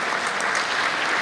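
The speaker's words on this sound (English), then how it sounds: "Yes, please raise a round of applause." Dinner crowd at a community unity gala breaks into loud, dense applause, a thick wash of clapping throughout.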